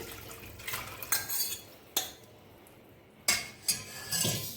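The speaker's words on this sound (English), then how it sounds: "now I am transferring this to a big pot here, big vessel here" A milk mixture for garden cress seed kheer is moved into a big vessel, with several sharp metal clinks and scrapes of a spoon against pots between quieter pauses.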